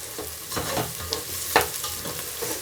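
Potato pieces fry in a pan for egg biryani, giving a continuous sizzle with occasional stirring scrapes and one sharper clink, close and moderately loud.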